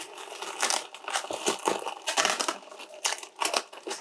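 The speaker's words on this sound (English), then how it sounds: "So I'm going to unwrap this." Plastic packaging around art supplies crinkles and crackles as it is unwrapped by hand, in irregular bursts of close, sharp rustling.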